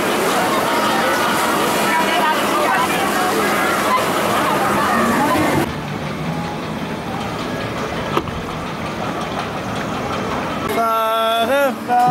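Wild water ride boat at the Slagharen theme park, with a steady rushing, sloshing wash of water and crowd babble through the first half, a quieter stretch after it, then a brief burst of splashing and voices near the end.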